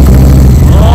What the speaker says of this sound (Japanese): このマフラー音だけ聞かせてもらっていいですか。